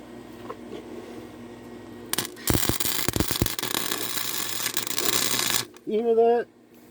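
A loud, crackling welding arc sizzles steadily for a few seconds like bacon frying, followed by a brief spoken voice nearby.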